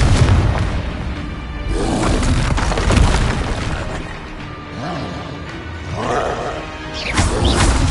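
The Confringo blasting spell from a Harry Potter game goes off as a run of loud, booming explosions with crashing debris and whooshes, continuous and dense, with heavy rumbling bursts throughout.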